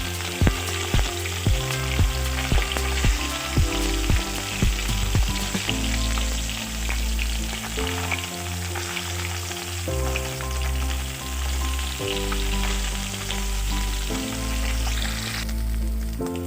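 Fish frying in a pan for a Assamese-style recipe with cauliflower, potato and tomato, a loud steady sizzle with crackling pops throughout, close up, no talking.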